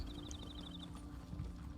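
Horse hooves clip-clop at a steady trotting pace in The Elder Scrolls Online, a soft, even rhythm under faint game ambience and a brief chiming tone, with no talking.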